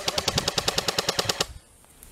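An airsoft BB gun fires a rapid automatic burst of about fourteen evenly spaced sharp shots, close and loud, then cuts off abruptly into near silence.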